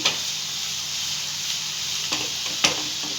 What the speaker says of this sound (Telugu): ఇది ఇప్పుడు మీడియంలో పెట్టి వేయించుకుందాం అండి